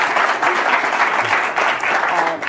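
Audience applause for Jack Ma at a Davos 2019 session, a thick, continuous roar of clapping from a large hall, loud and close throughout.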